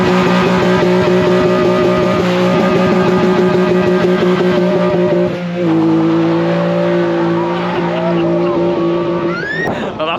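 A BMW E36 revs and accelerates away loudly at an outdoor car show, its engine note rising continuously close by, with tyre squeal and crowd chatter mixed in.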